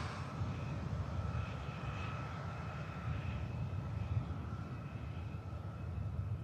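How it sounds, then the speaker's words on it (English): Juneyao Boeing 787-9 Dreamliner jet airliner taking off from Manchester Airport, a low, steady distant engine roar that holds evenly throughout, faint and rumbling with no talk. "Off she goes, the special liveried Juneyao 787-9 Dreamliner."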